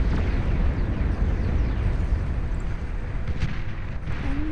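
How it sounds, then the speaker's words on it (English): Fireworks exploding in a pirate video game, a dense continuous rumble of booming blasts, loud and sustained throughout. "It's fireworks!"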